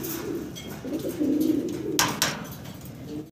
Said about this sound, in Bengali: দর্শক ভিডিও স্ক্রিনে আমরা দেখতে পাচ্ছি ভাইয়ের কাছে এখানে আছে এক জোড়া রোমানগাল কবুতর।